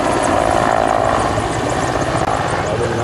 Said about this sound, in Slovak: Práve sa začal oficiálny letový program preletom vrtuľníka MiG-17